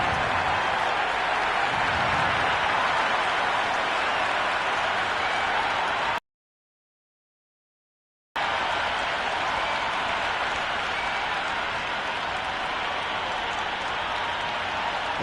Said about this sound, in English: The crowd are making a heck of a lot of noise even before the first ball's been bowled.